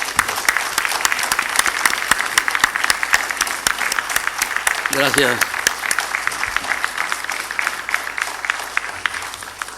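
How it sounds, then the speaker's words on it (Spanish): An audience claps steadily at a talk with habaneras in La Villa San Sebastián, with individual claps sharp and close, and someone briefly speaks over the applause midway. "al público se lo tiene a bien, pues darle un aplauso"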